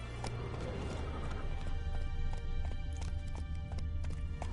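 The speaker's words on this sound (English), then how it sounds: "That's it, Roach." A horse gallops in The Witcher 3, its hooves drumming in a rapid, steady clip-clop close up over a constant loud game background.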